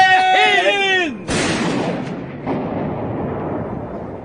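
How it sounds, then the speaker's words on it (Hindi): Heavy artillery fire in a dramatized war scene, a loud booming blast followed by a second rumbling impact and a long decaying roar, preceded by a sustained tonal musical or vocal sound. "शत्रु की एक बैटालियन ने भारी तोपखाने की सहायता से इन ग्रेनेडियर्स पर धावा बोल दिया"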